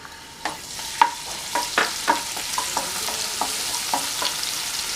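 Crushed garlic frying in hot coconut oil in a pan, a steady close sizzle broken by a dozen sharp clicks and scrapes of a utensil against the pan at an uneven pace, with no voices.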